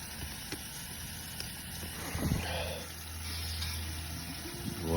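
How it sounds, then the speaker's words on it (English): Water running into an emptied propane tank during rinsing, a steady broadband gush that grows somewhat stronger partway through, with a faint low hum underneath. "The water's starting to get stronger, which is good."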